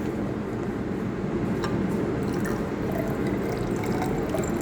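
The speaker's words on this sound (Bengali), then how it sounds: "অক্সালিক অ্যাসিড ঢেলে নিচ্ছি।" Oxalic acid streams into a blender jar holding tomatoes, a steady watery pouring and trickling sound that runs unbroken throughout.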